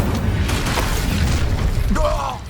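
The Incendio fire spell cast in Hogwarts Legacy, a loud whooshing, crackling burst of flame with mechanical clanks, tapering off at the end with a brief voice over it.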